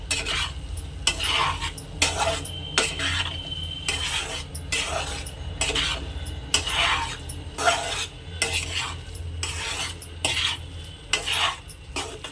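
A spoon or spatula stirs and mixes puffed rice ghonto with ghee in a hot pan, scraping in repeated rhythmic strokes over a steady low sizzle, with no talking.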